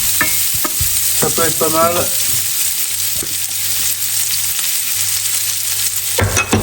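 Bacon and onions gently sautéing in a pan, with a steady sizzle, spatula scrapes and stirring clatter up close, while a person speaks briefly over the cooking.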